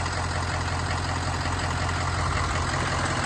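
A 2006 Ford E-450 box truck with a diesel engine idles steadily, a continuous low rumble held at an even level throughout.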